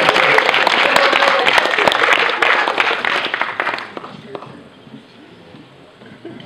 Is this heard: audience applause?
yes